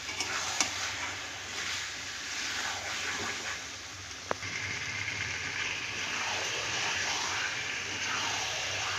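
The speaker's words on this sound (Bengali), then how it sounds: "মাংসটা দিয়ে এবার ভালো করে কষাবো। মশলার সাথে মাংসের সাথে একসঙ্গে ভালো করে কষিয়ে নেব।" Chicken pieces sautéed with spices and ripe tomato in a karahi give a steady, close sizzle with stirring scrapes throughout and a couple of sharp clinks from the spoon against the pan.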